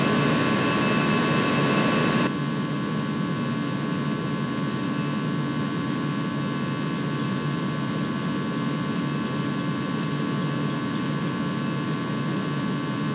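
Simulated twin jet engines of an A320 at takeoff power in the X-Plane 11 flight game give a steady, dense roar that eases slightly after the first two seconds and then holds constant.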